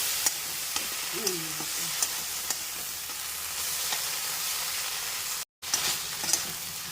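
Poppy seed paste with okra frying in a pan, a steady soft sizzle with scattered small clicks of utensils, one brief dropout near the end, no talking.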